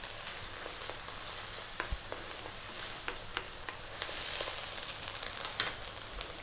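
Garlic ginger paste frying in a pan for a Bengali carp curry, a soft, steady sizzle dotted with small crackles and pops, close and quiet, with no voices.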